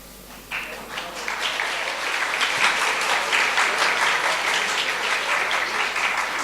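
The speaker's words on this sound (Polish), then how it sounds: "Wiedziałam, wiedziałam, że za to otrzymam oklaski" Sustained applause from an audience at a regional school-year inauguration ceremony in Wałcz, Poland, rising within the first second and holding steady as dense, even clapping through to the end.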